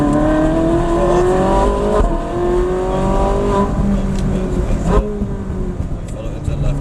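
Supercar engine on a race track during a trackday, loud and close, with rising harmonic engine tones climbing through acceleration and brief shifts, while an instructor talks over it.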